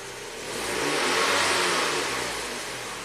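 A 2009 Ford Fusion engine running rich, a rough, steady close-up drone that swells and then eases slightly over a few seconds, with no voices.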